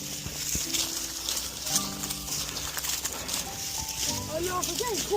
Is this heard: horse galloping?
yes